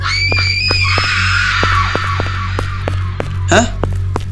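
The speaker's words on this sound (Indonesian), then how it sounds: "Kok ada yang teriak?" A sustained, loud scream rings out over a low background hum in a graveyard guard simulator horror game, followed by a few short clicks and a brief sharp cry near the end.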